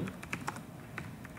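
Keyboard typing a short bookmark description, quick close keystrokes in an uneven rhythm against a faint steady background, no talking.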